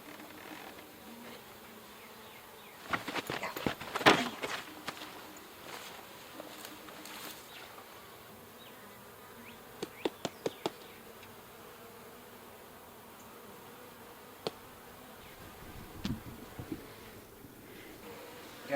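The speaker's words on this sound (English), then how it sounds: "There's just a few bees left" A few remaining honey bees buzzing around a failing horizontal hive with no queen, heard as faint intermittent buzzes that drift close and away over quiet outdoor background, with a few louder near passes.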